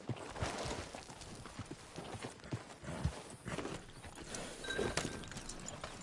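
Horse hooves clip-clopping in the video game Red Dead Redemption 2, a steady rhythmic clatter of close footfalls mixed with game ambience, with a brief whinny.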